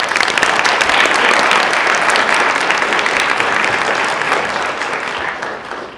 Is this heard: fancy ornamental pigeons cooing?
no